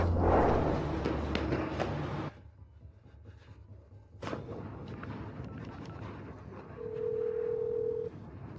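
A telephone sounds indoors as a single electronic tone near the end, following quieter room noises and shuffling.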